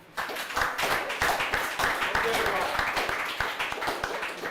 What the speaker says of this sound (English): you need to clap for this man